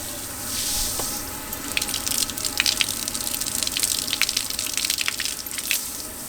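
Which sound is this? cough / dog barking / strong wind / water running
water running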